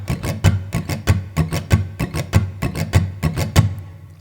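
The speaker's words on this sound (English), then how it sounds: "we're going to add a little bit of that bouncy, galloping rhythm" Acoustic guitar strummed in a bouncy, galloping boom-chick rhythm, with steady alternating bass thumps and bright chord strokes repeating evenly throughout, close and clear with no talking.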